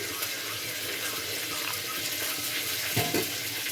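Water runs and splashes steadily as ground chilli powder is stirred into a little water in a home kitchen, a soft continuous trickle with a brief clink near the end.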